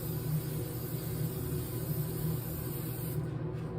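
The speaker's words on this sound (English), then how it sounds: "Spray into the booth. Just put a nice coating on it." Polyurethane sealant sprayed from an aerosol can onto a carved relief block inside a spray booth, a steady continuous hiss that stays even for several seconds before tapering slightly at the end, with no talking.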